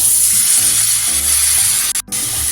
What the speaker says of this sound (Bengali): এক দু মিনিট ভালো করে চালটা একটু ভাজা ভাজা করে নেবো